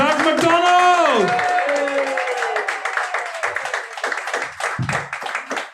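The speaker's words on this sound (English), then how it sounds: "Start clapping over here." A comedy club audience in Derry claps for comedian Zac McDonald, the steady applause rising under a host's voice announcing him and then carrying on alone as scattered claps.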